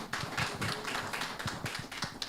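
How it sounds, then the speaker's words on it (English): A crowd gives a performer a round of applause, steady dense clapping that holds for a couple of seconds without talk. "Let's give him one more round of applause"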